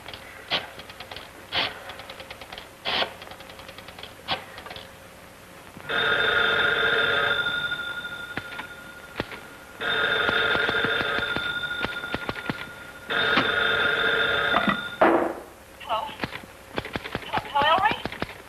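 An old 1940s-style telephone bell rings loudly in three long, shrill bursts separated by pauses filled with faint clicks and knocking, ending with a few scattered tapping sounds.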